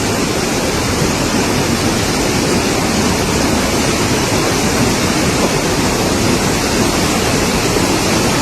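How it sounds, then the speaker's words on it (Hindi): Fast-flowing flooded river in India during heavy rain, a loud, dense, unbroken roar of rushing water that holds steady throughout with no voices. "नदी का बहाव तेज है"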